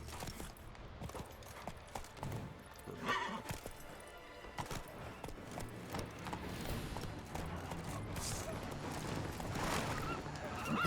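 Roach, a horse in The Witcher 3 video game, gallops with steady clip-clopping hooves and whinnies, the hoofbeats building louder toward the end, with a faint voice now and then.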